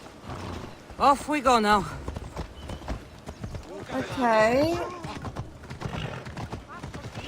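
Horse hooves clip-clop in Assassin's Creed Odyssey as a mount is ridden, a steady soft clatter under game dialogue and a player's voice.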